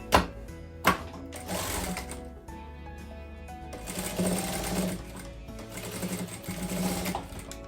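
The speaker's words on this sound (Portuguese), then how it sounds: "Depois que a gente passou essa costurinha aqui no elástico" A sewing machine stitches elastic onto fabric in rapid, rattling bursts with short pauses between runs, close and clear, opening with a couple of sharp clicks.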